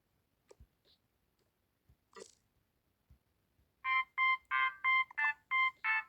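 A mobile phone rings with an incoming call, giving a series of about seven bright, regular electronic tone bursts after a few faint clicks and taps in an otherwise quiet room.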